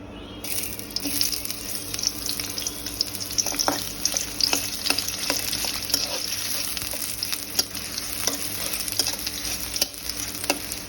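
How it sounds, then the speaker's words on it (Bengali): Onions fry in oil in a wok for mutton biryani, a dense continuous sizzle with scattered crackles and light stirring scrapes throughout. "পেঁয়াজটা একটু লাল করে ভেজে নেব।"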